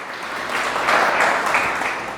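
Church congregation applauding during a Spanish-language sermon, a broad steady wash of clapping that swells in the middle and tapers off, moderately loud and without talk over it.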